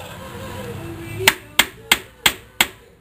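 Five sharp metal hammer blows strike a truck front axle spindle in an evenly spaced sequence, loud and close, after a low mechanical drone.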